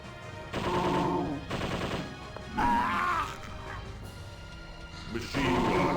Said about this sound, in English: Machine gun. Bullets. Bullets.